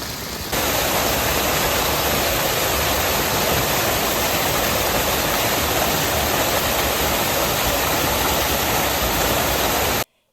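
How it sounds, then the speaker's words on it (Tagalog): Rushing water at a waterfall, a loud continuous broadband roar held steady for about ten seconds before cutting off, no voices. "Pagdating sa falls, masarap pakinggan ang tunog ng agos ng tubig."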